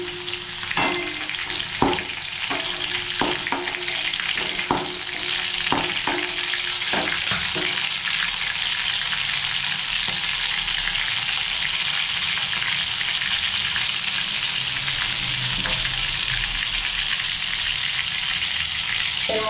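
Onion and green chilli sizzle steadily in hot oil in a pan just emptied of fried prawns, with several sharp stirring scrapes early on before the frying settles into an even, continuous hiss with no talk.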